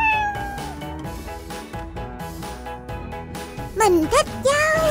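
A kitten gives a few short rising and falling meows near the end, fairly close and clear over a busy tonal, music-like background.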